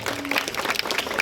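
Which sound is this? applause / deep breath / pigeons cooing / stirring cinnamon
applause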